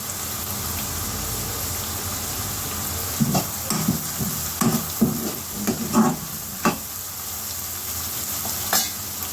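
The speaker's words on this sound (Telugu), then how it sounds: "ఉల్లిపాయ ముక్కలు వేస్తున్నాం ఇప్పుడు కరివేపాకు వేస్తున్నాను" Onion pieces and curry leaves fry in hot oil for a goru chikkudu (cluster bean) curry, a steady close sizzle broken by several louder bursts and scraping stirs in the middle, with no talking.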